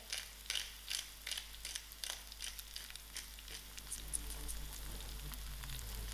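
Whole cumin seeds and freshly ground black pepper crackling in hot oil for a quick tomato rice, with faint, rapid popping and sizzling that is close but quiet, with no talk.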